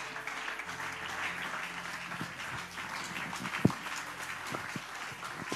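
A church congregation applauds and cheers for Jesus, a fairly faint, continuous wash of clapping and crowd noise with a few sharper claps standing out.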